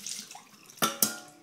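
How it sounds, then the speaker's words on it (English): Leftover green liquid from a kids' homeschool chemistry experiment poured out of a container, making two brief splashing gushes in quick succession after a soft, quiet start, with no talking. "Pour it out."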